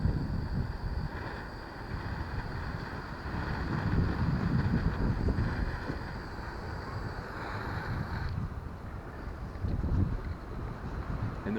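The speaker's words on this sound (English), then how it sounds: "the wind's going to blow and I don't want it to mess up the microphone" Outdoor wind buffets the microphone in a steady, loud rumble that swells and eases over several seconds, with no voices.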